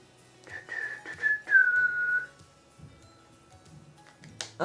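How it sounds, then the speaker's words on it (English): A person whistles a short tune close by while making a card at a craft table: a few brief notes, then one long sliding tone, followed by quiet tapping and handling noises. "I've got a habit of whistling at the moment"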